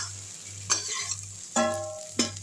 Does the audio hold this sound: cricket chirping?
no